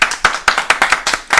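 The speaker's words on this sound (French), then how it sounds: "tout le monde m'applaudit" A single pair of hands claps sharply and steadily, about six close, loud claps in under a second and a half during a French gaming livestream, with no voices.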